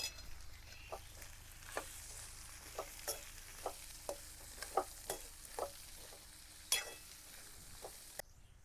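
A spoon scrapes and stirs a corn chevdo mixture in a pan, with a soft steady sizzle underneath and irregular light clinks and scrapes; the stirring is quiet and close and stops near the end.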